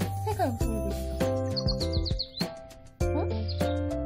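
A talking parrot toy chirps and tweets in bright electronic bursts, its jingling bird calls and playback voice sounding close up in short, choppy segments.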